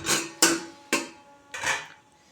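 A metal pan lid clanks against a pan of tomato chutney: four sharp metallic clinks with short ringing tails, close and fairly quiet, with no talk.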